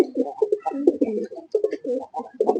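Male dhapri pigeons coo close by, overlapping throaty rolling calls repeating in quick, continuous bursts with no talk.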